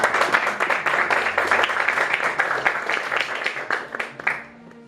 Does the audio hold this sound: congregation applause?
yes